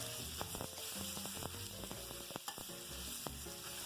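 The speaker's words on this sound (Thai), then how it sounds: "แล้วเราก็จะผัดด้วยไฟแรงๆนะคะ" Lotus stems stir-fried with pork in a wok over high heat, a steady close sizzle of hot oil broken by frequent sharp scrapes and clanks of the spatula against the pan.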